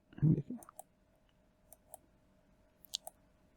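Mouse clicks while placing control points of a spline in CAD drafting software: a few soft, sharp clicks spaced a second or so apart, faint and close, after a brief burst of handling noise at the start, with no talk.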